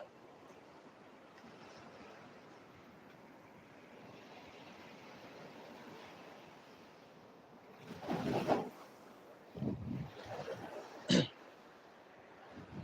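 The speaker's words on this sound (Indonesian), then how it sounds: "ombaknya emang sangat dahsyat ini" Large ocean waves on the south coast, a continuous low surf wash with wind noise, broken by several loud close crashes of breaking water in the latter half.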